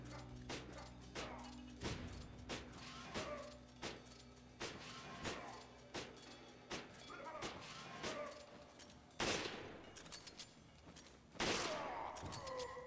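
An S75 rifle in Resident Evil 5 fires a long series of regular, sharp, booming shots at a steady pace, with a few heavier blasts near the end and game sounds underneath.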